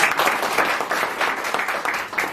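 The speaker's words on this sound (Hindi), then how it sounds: "मैं चाहूंगा इस डायरेक्ट सेलिंग इंग्लिश लिए एक बार जोरदार ताली हो।" Loud, dense applause from a crowd at a marketing business event in Balotra, India, steady clapping with rhythmic pulses throughout.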